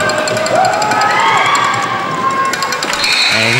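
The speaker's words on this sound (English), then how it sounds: "Home crowd here is really loud." A loud home crowd cheers and roars at a basketball game after a free throw, a dense sustained wall of shouting and whoops with rising voices near the end.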